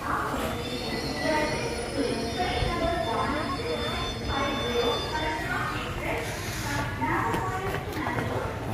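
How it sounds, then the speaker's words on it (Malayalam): A train moving through a railway station, with steady wheel squeal and rolling rumble from the railcars continuing throughout, close and loud, while people talk over it. "ഈ ട്രെയിൻ അല്ല കേട്ടോ അടുത്ത ട്രെയിനിലാ പോണവര്."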